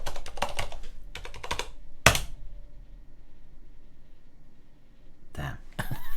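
Bursts of clicky keystrokes on a computer keyboard as a password is typed into a Linux terminal, several quick clusters separated by pauses, with a sharp thump partway through and no speech.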